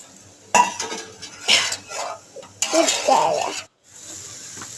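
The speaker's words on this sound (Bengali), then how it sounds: "বাঁধাকপিটা 2-3 বার লাড়া দিলাম" Cabbage stirred in a cooking pot with a metal utensil, several loud scraping, clattering strokes separated by brief pauses over a soft sizzle.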